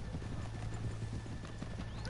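A horse in the Red Dead Redemption 2 video game clops its hooves steadily in a dense, continuous layer of game sound, with a faint whinny mixed in.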